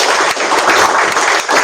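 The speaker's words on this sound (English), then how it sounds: "Let's have a round of applause." An audience at a conference event applauds together, a dense steady wash of clapping that fills the room for under two seconds without letup.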